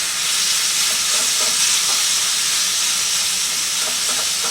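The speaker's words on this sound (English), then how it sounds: "we're doing our pork sausage right now. We're going to brown it." Pork sausage, removed from its casings, browning in a pan as part of a rigatoni rosa dish, with a steady, loud sizzle and hiss of frying that holds evenly throughout, with occasional faint pops and stirring clicks and no voices.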